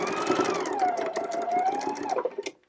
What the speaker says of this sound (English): I'm sewing straight up the edge from the base of the bag